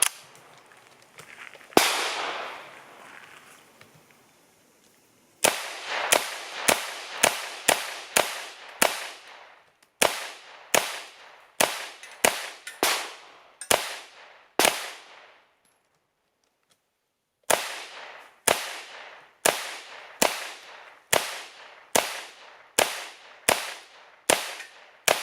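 A PAK9 pistol fed from Korean KMag 30-round Beretta 92 magazines fires at a range in two long strings of sharp, evenly spaced shots, loud and close, with a pause between strings and no talking.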